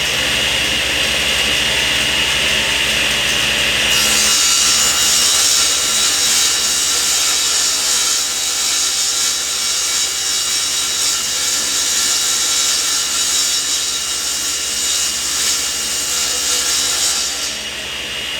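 A saw rips steadily through the factory edge of a Baltic birch plywood sheet, a loud continuous whine and rasp that holds for most of the stretch before easing off at the end.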